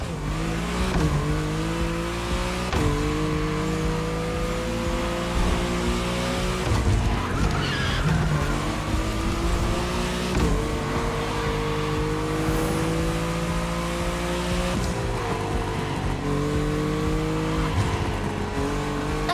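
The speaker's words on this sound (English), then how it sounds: "Customized Lamborghini Aventador." A customized Lamborghini Aventador in the racing game Crew Motorfest holds a steady, loud engine drone with rising and falling pitch as it shifts through gears, with a burst of tire squeal near the middle and no talk.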